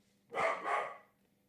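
A dog barks indoors, a single close double-woof lasting under a second against a quiet background.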